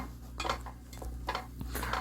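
Anchovies and green onion stir-fried in oil in a pan, giving repeated scraping and clinking bursts of a utensil against the pan at close range, with no talking.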